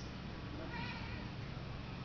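Several bred cats meow indoors, a faint, drawn-out mewing cry over a low, steady background hum, with no talking.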